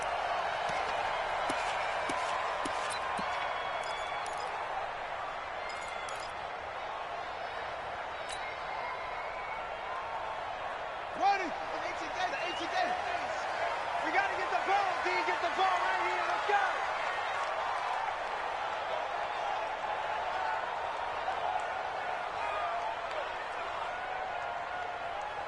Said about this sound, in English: And in front of a raucous crowd, this one is underway.